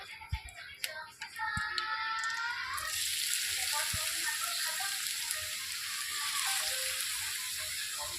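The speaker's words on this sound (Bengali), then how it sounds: "গাজরটা দিয়ে এবার এটাকে ভালো করে ভাজা ভাজা করে নিতে হবে।" Grated carrot fries in ghee for halwa, starting with a few clinks and scrapes before a loud, continuous sizzle takes over and holds steady to the end.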